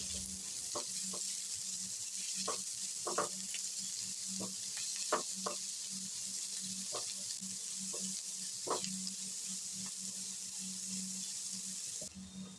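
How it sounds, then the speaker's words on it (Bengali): Chopped onions with a bay leaf fry in oil, a steady sizzling hiss under repeated scraping and clicking stirs, with no talking over it. "দুটো মিডিয়াম সাইজের পেঁয়াজ কুচি এখন এই পেঁয়াজ কুচিকে খুব ভালো করে ভেজে নিচ্ছি"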